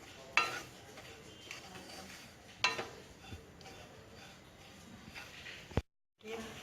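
Grated coconut roasts in a pan over low heat while a spoon stirs it, making soft scraping and a few sharp clinks against the metal. Someone talks over the cooking.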